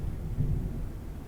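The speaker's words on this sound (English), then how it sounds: "That's the sound of thunder and lightning." A deep, rolling rumble of thunder swells and fades, low and heavy, with no voices over it.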